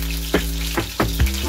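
Scallion and garlic dropped into hot frying oil for Jamaican-style crispy fried snapper, a close steady sizzle with a low hum beneath and a few sharp bursts and clatters as pieces hit the oil.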